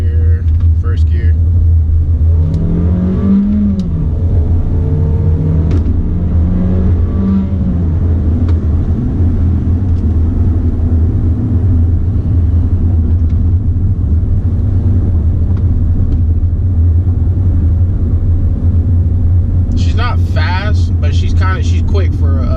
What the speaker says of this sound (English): She's quick for a 4-cylinder.